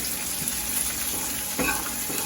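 Pineapple pieces fry in a pan, a steady close sizzle and crackle with occasional stirring scrapes and bursts of spatter, no voices over it.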